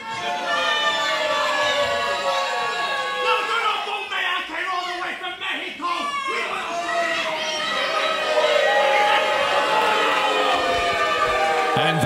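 A live wrestling crowd in Southend, England, jeering and shouting at the wrestler El Greggso, forms a loud, dense wall of voices and whistles that keeps going for the whole stretch and swells louder near the end.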